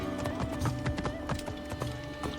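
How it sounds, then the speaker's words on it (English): Horse hooves clip-clopping at a walking pace in Assassin's Creed Discovery Tour set in Ancient Egypt, rapid repeated thuds over a steady game ambience. "I'm going to keep her with me"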